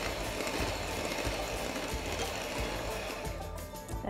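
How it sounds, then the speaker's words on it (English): Pina colada cupcake batter with flour and baking powder being whisked in a bowl: a steady, fast rhythmic scraping and tapping churn, close and fairly constant throughout, with no talking. "I just want to give this 2 whisks because over whisking can make it a dry"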